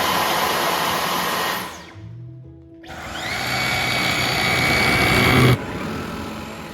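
A Dyson V11 Absolute Plus cordless vacuum cleaner whines loudly and close up, drops briefly as modes switch, then spins back up to a higher, stronger roar before settling at a steady level, with no talking.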